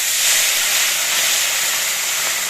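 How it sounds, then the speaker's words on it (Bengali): Small puti fish frying in hot oil in a home kitchen, a dense, steady, loud hiss and sizzle that stays even throughout, close by and with no talking. "আর এবার পুঁটিগুলো ভেজে নিই"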